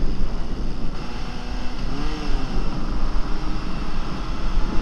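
A Honda CB750F classic inline-four motorcycle engine hums steadily while being ridden, a continuous mid-level drone with a slight rise in pitch partway through, rather quiet under constant road and wind noise.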